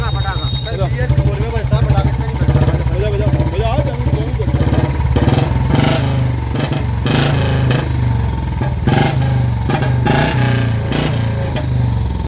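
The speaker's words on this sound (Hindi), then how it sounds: "साइलेंसर से गोली की आवाज निकालना एक बुलेट राजा को महंगा पड़ गया है" A Bullet motorcycle with a modified silencer idles and revs loudly nearby, its engine throbbing steadily while a series of sharp, crackling bangs burst out in the second half, with people talking over it.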